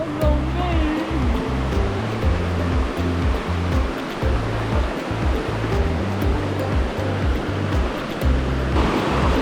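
Steady rushing water of a wide river fills the scene, a broad continuous roar, with faint voices buried underneath.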